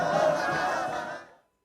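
A large crowd greeting President Sassou Nguesso, a loud collective roar of many voices cheering and shouting together that swells briefly and then cuts off.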